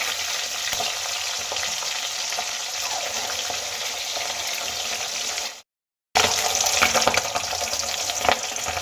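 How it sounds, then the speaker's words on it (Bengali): Fish heads frying in oil for a mung dal dish: a continuous, dense crackling sizzle close up, cut by a brief silence before resuming just as strongly. "এবার মাছের মাথাগুলো খুব ভালো করে ভেজে নেব"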